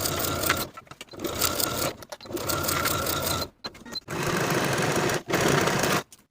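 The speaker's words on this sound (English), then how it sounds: "sew that underarm seam with a 1/2 inch seam allowance" A home sewing machine stitches a sleeve's underarm seam in fabric for a cropped boxy top, running in several bursts of steady whirring with brief stops between them, close and fairly loud.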